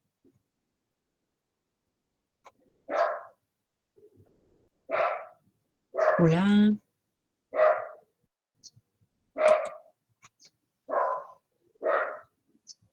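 Several dogs bark in a quiet outdoor spot, short single barks spaced a second or two apart at moderate distance, with one longer, whining bark in the middle and a brief greeting spoken once.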